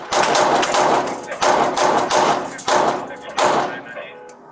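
Repeated loud blasts of gunfire from a suspect shooting at police, roughly four heavy bursts spaced about a second apart, harsh and booming, with the final one trailing off.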